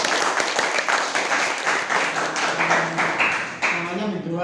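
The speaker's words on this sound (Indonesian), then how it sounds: "Tepuk tangan dulu untuk Geraja." A class audience claps for a student's magazine project presentation, uneven clapping that thins toward the end as a voice begins talking over it.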